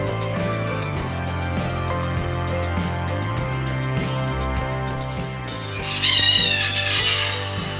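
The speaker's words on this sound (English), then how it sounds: "It's not those chickens again, is it?" Chickens cluck and crow over a steady tonal backing, with the loudest crow rising near the end.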